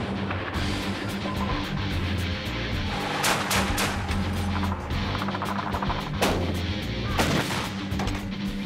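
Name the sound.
500-pound bombs from F-18s exploding on targets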